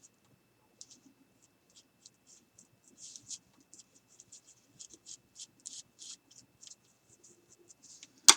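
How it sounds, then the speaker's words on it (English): Pencil or pen drawing a petal outline on crepe paper for a glittered paper flower, a close, quiet run of short scratchy strokes that grows busier midway, with no talking. "I'm just going to draw out what kind of shape that you need so you can see what we're doing here."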